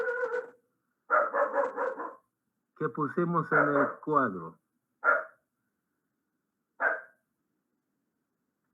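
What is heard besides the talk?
small dog barking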